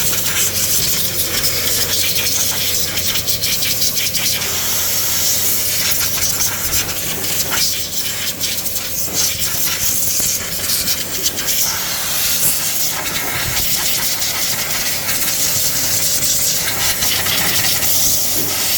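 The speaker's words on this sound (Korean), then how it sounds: "에어로 한번 불어볼게요." Compressed air blasts steadily and loudly to dry a car part after cleaning during a vehicle check, a continuous close hiss with slight fluctuations throughout.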